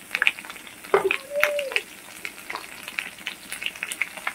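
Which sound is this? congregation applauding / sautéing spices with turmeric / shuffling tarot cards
sautéing spices with turmeric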